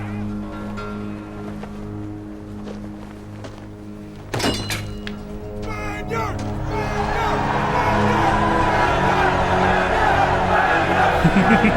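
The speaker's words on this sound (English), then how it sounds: "Oh, now they're fucking cheering." An arena crowd in the film Gladiator swells after a sharp thud into a broad, sustained roar of cheering that grows louder and fills the rest of the scene.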